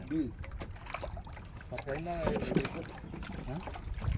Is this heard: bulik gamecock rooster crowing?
no